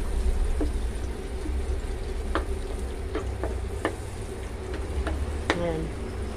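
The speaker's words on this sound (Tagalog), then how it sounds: "Ayan, pag natunaw na siya, iuna natin itong luya. Gisa-gisa lang natin ng ilang minuto." Ginger sautéing in melted butter, giving a low steady sizzle with scattered crackles and a few sharp taps of the utensil on the pan, close up with a faint background hum.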